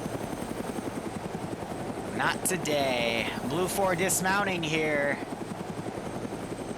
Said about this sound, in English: why that chopper sounded a lot louder for a few more seconds than it should have